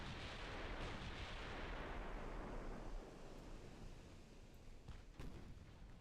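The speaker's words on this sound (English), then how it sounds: "Get the secondaries firing on that destroyer" Warship secondary guns fire in Ultimate Admiral Dreadnoughts, a dense, rumbling roll of distant booms that fades and is followed by a couple of sharper reports.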